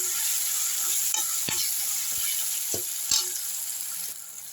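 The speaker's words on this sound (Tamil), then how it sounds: "எவ்வளோ சாஃப்டாக வதக்க முடியுமோ அவ்வளோ சாஃப்டாக வதக்குங்க." Tomatoes cook in oil with rock salt in a pan, a steady close hiss of frying broken by a few sharp scrapes and taps of a spatula.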